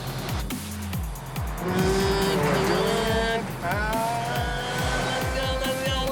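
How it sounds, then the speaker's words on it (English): A car towing a trailer accelerates hard during a sway test, the engine roaring steadily and loud throughout with a rising, straining tone, no voices over it. "You hit the gas and it takes a second for it to wake up"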